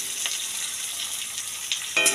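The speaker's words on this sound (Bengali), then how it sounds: "চলো, বাকি পেঁয়াজটাও আমি ভাজতে নিয়ে নিলাম।" Sliced onions fry in a pan for hilsa biryani with gobindobhog rice, a quiet, even sizzle with occasional stirring clicks that grows louder at the end, no voices.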